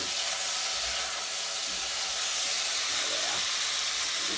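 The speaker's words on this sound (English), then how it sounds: "add your splash of white wine vinegar or just white wine, and leave it on a heat, a high heat, just to deglaze the pan" A splash of white wine vinegar hits a hot pan on high heat to deglaze it after pan-roasting a pork chop with apple and shallots, giving a loud, dense, continuous steamy hiss.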